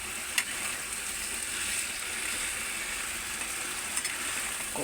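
A spoon stirs ridge gourd and potato cooked with poppy seed paste and a little sugar in a hot pan, giving a soft continuous sizzle with faint scraping and a couple of light taps.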